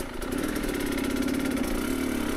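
A motorcycle engine fitted with an XTNG GEN3+ carburetor runs steadily at a close, even idle-to-low rev pitch, with a continuous throbbing pulse and no talk.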